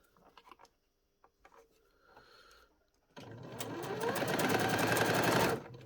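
Sewing machine stitching an elastic casing shut close to the edge of a tartan pleated doll skirt: a few soft clicks and handling noises, then a loud, steady run of rapid needle chatter for about three seconds that stops abruptly.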